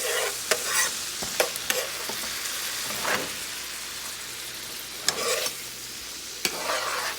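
A pan of smothered pork chop gravy is scraped and stirred as it simmers, giving a steady close sizzle with repeated scraping strokes and sharp clinks. No one speaks.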